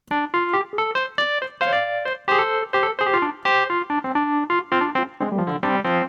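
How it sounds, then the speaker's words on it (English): A Wurlitzer-style electric piano, a sampled emulation, plays a run of bright, bell-like chords and single notes in an even rhythm, close and alone with no voices. "That Wurlitzer sound, which sounds like this."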